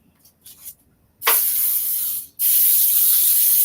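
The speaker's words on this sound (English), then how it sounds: "So I'm just going to spray lightly with the Pam." Pam cooking spray hisses onto a baking pan in two bursts, a short first spray followed after a brief gap by a longer one, loud and close, with faint handling noises before.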